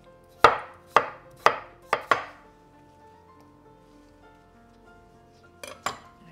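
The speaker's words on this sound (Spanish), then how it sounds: "Ahora cortamos en rodaja. No muy fina, así gorditas." A knife cuts corvina fish into thick slices on a board, five sharp evenly spaced chops followed by a pause and two more, close and crisp against a quiet kitchen.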